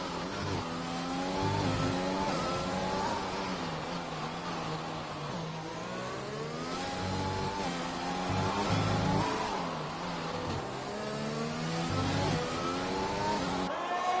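F1 2020 race car engine screaming at full throttle in the video game, a steady high-pitched wail with rising gear-change sweeps, loud and continuous throughout.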